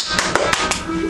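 Clapping in the video game Skyward Sword, four sharp evenly spaced claps in quick succession, close and fairly loud, with game sounds underneath.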